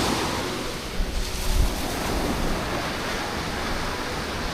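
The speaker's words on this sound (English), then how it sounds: "Whoa, waves." Ocean surf rolling onto a beach near Mangawhai Heads along the Te Araroa trail, a steady loud wash of breaking waves with gusty wind buffeting the microphone and no voices.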